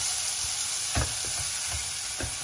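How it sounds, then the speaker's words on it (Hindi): Chopped onions browning in a hot pan for a Ramadan iftar snack, giving a steady close sizzle with a few soft stirring scrapes and no voices. "ये देखिए नाज़नीन, हमारी प्याज हो गई है ब्राउन"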